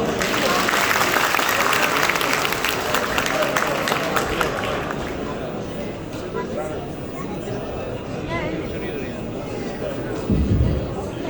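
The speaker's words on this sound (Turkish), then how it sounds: "Ya alkış oldu burada" A wedding ceremony crowd claps steadily, the applause fading gradually into a softer murmur of voices and movement.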